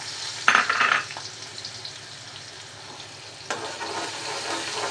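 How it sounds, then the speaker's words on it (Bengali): Onions frying in a pot of leftover fish-frying oil, a steady soft sizzle running throughout with a couple of louder stirring bursts near the start and another past the midpoint. "পেঁয়াজটা ভেজে নিচ্ছি,"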